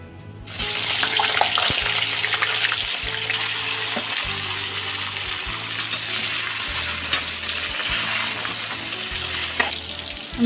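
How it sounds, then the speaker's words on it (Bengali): Boiled cauliflower frying in hot oil for a dry potato and cauliflower dish, giving a steady loud sizzle with bubbling crackle throughout, no talking. "আমি এখন এই তেলের মধ্যেই দিয়ে দেব যে ফুলকপিটা আমি সিদ্ধ করে রেখেছিলাম, সেই ফুলকপিটা আমি দিয়ে দেব।"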